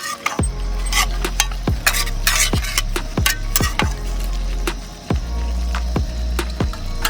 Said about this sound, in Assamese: এতিয়া মছলাখিনি অলপমান টাইম ভাজি থাকিম।